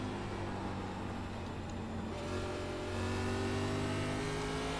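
A NASCAR race car in the iRacing simulator sweeps off turn 2 on throttle, its engine a loud, steady drone that rises in pitch as it accelerates, with no voices over it.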